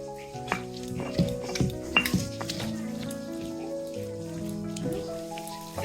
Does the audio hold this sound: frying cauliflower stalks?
yes